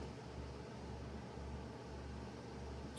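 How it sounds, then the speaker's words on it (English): A building heater runs in the background, a steady broadband whoosh with a low hum, unchanging and moderately quiet throughout with no talking. "Sorry about the background noise, the heater's on in the building."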